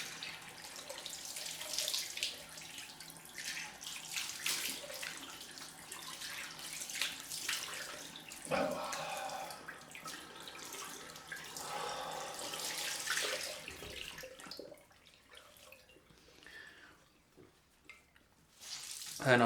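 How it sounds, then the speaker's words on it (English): A water tap runs for a cold rinse after a head shave, a steady hiss of flowing, splashing water at close range that quiets briefly near the end. "So let's go on with the cold rinse."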